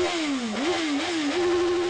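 A Suzuki Hayabusa K8 motorcycle engine runs close and loud with a steady tone that dips and rises as the throttle is blipped, then settles into a strong, even drone.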